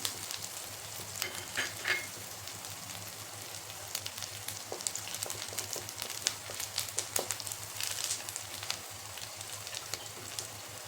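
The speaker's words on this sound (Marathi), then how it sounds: "आपल्याला त्यामध्ये कोथिंबिरीचे पानं पानं घालायचे थोडी आणि क्रिस्पी होईपर्यंत अशी कडक होईल अशा हिशोबाने तळून घ्यायचे" Chillies and coriander leaves frying in hot oil until crisp, a steady soft sizzle with scattered crackles and pops, close by and alone with no talking.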